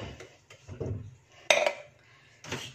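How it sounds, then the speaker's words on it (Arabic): Dishes clink and clatter in a home kitchen at close range, with one sharp ceramic knock and several lighter clinks among soft handling noises. "دي المواعين اللي طلعت، لسه هقعد اغسلها."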